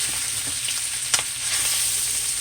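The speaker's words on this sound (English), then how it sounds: "Just keep stirring. Okay. Keep it stirred real good." Sausage and rice stir fry with vegetables sizzling loudly and steadily in a pan, a brief sharp clack of a spatula midway, close and continuous with no talk.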